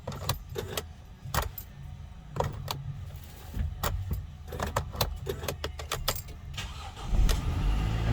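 Scattered clicks and light rattling, then a Mercedes Sprinter van engine with an intermittent steering lock fault turns over and catches near the end, settling into a low rumble.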